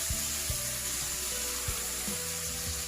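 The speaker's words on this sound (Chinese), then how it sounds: "来1/3汤匙的豆瓣酱炒出红油" Chili bean paste stir-fries in hot oil in a wok, a steady sizzle broken by a few sharp spatula knocks against the pan, with soft background music underneath.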